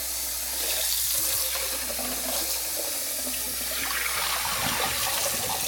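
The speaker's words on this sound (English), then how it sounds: "go ahead and turn the water on. Just try and get as much cool water you can in there." Tap water runs into a pot of boiled eggs to cool them on an induction cooktop setup, a loud steady gushing and splashing throughout, with no talking.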